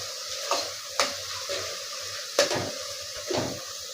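Masala for vegetable biryani being stirred in a pot, a soft sizzle broken by a few sharp scrapes and knocks of the spoon at irregular intervals, close by with no talking.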